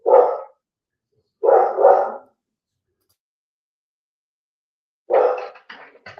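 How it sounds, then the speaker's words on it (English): Dogs barking in short bursts: a single bark, a quick double bark, then after a long silence another bark trailing into smaller yips, loud and close with no talk. "My dogs go crazy."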